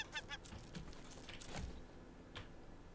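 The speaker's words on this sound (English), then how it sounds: "And kill the bird." A bird in the Raft survival video game gives several short, honking squawks amid quiet game clatter and clinks, all at low volume.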